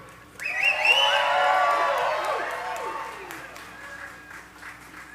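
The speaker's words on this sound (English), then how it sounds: "This time, let's hear a big applause with some whoops and hollers." A concert crowd at a San Angelo Fourth of July show breaks into loud clapping with whoops and cheering. The sound surges in suddenly, peaks early, then gradually fades as the clapping thins out.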